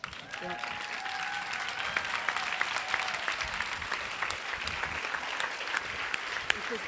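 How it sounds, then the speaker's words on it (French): An audience applauds the men standing up at a talk on enlightened couples, a sustained dense clapping across the room with a faint voice speaking briefly near the start. "Et du coup, les hommes, je vous demande de vous lever et on va vous applaudir."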